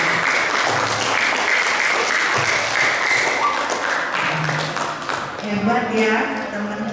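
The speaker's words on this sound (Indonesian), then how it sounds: "Tepuk tangan dulu." Audience applause for a student at a school orientation event at Jakarta Islamic School, steady dense clapping from a sizable crowd running throughout, with voices talking over it near the end.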